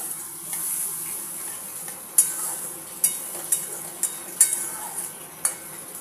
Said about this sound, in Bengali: আবার একটু জল দিলাম বন্ধুরা, একটু ভালো করে কষিয়ে নিই